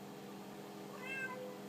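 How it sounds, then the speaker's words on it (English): A cat meows once, fairly close and clear, over a steady low background hum with no talking. "would you shut the hell up? This is why I don't like cats."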